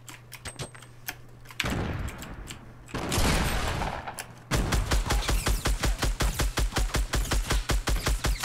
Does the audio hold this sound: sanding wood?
no